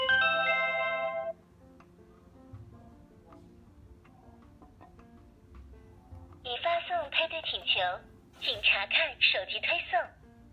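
A Xiaomi smart video doorbell gives a steady electronic tone at the start. Later come clusters of bright chirping beeps during pairing, over a quiet background hum.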